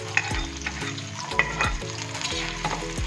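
Finely chopped onion frying in oil with cumin: a sizzle with clattering stirs, layered over a steady low tonal hum and some bright tones.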